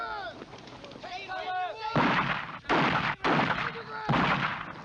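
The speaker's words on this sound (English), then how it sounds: "Damn rebels, they've sent out their snipers again." Sniper gunfire from rebels in a 19th-century Civil War era military camp: several loud, broad cracks and bursts arrive in quick succession, following a stretch of voices and other sounds.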